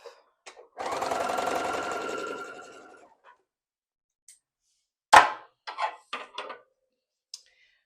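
A sewing machine stitches a row of fabric pieces together in one sustained burst of about two seconds, followed by a few short clicks and thumps of handling the fabric.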